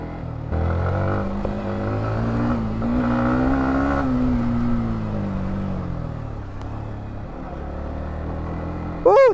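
An MT-50 motorcycle rides off-road along a rough trail, its engine droning steadily with rising and falling pitch, close and moderately loud, with a brief sharp burst at the very end.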